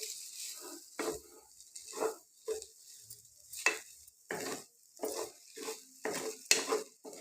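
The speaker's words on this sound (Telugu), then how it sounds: "ఇది తిప్పేటప్పుడు కొంచెం జాగ్రత్తగా తిప్పుకోవాలి, నూడిల్స్ మొత్తం ముక్కలు అయిపోతాయి." Noodles in a pan stirred with a utensil in repeated scraping strokes about once a second, gentle sizzling underneath, close and fairly quiet, with no voices.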